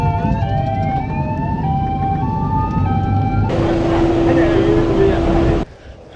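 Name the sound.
sirens of ambulances and hearses blaring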